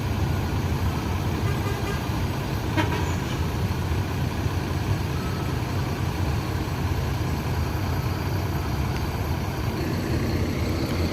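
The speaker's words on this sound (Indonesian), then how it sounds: "Truk Hino memasuki Terminal Barai Solo ini, bosku." A Hino truck rumbles into Terminal Barai bus station in Solo, its heavy diesel engine giving a steady low drone with faint background traffic and no talk.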